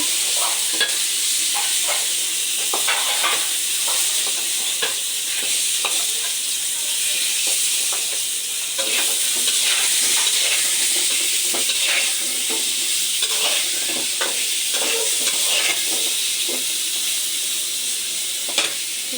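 Potatoes fry with eggs and Bombay chillies with a constant crackling sizzle, interrupted by repeated scraping stirs in the pan, close and steady throughout.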